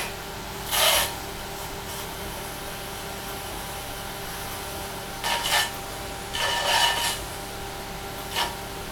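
A stainless steel rib trims the edge of a porcelain bowl, giving a few short, soft scraping bursts over a low, steady background hum.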